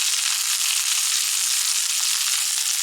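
Onions frying in a pan on the way to browning, a steady, loud, unbroken sizzle with no voices.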